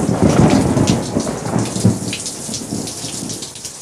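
Computer-simulated thunder and rain: a loud, rolling rumble with crackling bursts over a continuous hiss of heavy rainfall, fading slightly toward the end.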